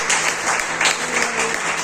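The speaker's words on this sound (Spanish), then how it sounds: "Dale con ese aplauso, Señor." Congregation applauding during a church service, a steady broadband wash of clapping that stays loud and continuous for its full length with no speech over it.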